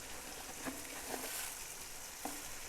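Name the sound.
frying spices and chicken for pulao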